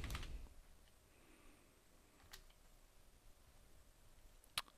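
Faint, sparse keystrokes on a computer keyboard as a command is typed during a software install, with a few isolated clicks in an otherwise quiet room.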